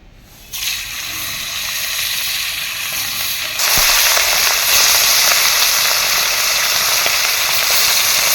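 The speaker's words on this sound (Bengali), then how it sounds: "বাকি মাছগুলোও ভেজে নেব।" Fish frying in hot oil in a home kitchen, a steady loud sizzle that jumps louder partway through as more pieces go into the pan, with no talking.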